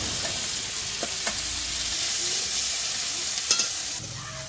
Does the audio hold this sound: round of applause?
no